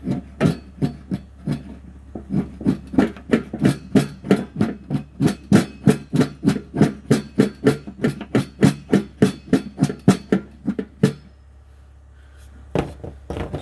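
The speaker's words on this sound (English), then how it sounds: "I don't have a knife with me, so I'm going to be using my tomahawk. Make a few shavings here." A tomahawk shaves wood for firewood in a long run of sharp, rhythmic chopping strikes, close and fairly loud. They stop briefly, then a couple more strikes follow.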